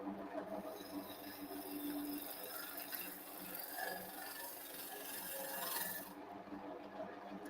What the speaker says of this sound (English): we're going to do a pull cut or a shear cut outwards, just to remove some of that material